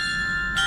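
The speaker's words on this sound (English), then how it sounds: "bells there with the names of soldiers or officers that died also. It plays regularly." Memorial bells at a German war cemetery in Ysselsteyn, Netherlands, ringing as a sustained metallic tone with a new strike near the end, heard alone and fairly loud.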